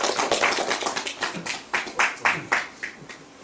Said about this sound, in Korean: 예, 박수 줘요